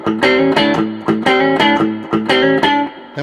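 Distorted electric guitar playing a blues lick in A with hammer-ons, a few rhythmic chordal phrases with sustained overdriven tones, loud and close, no voice.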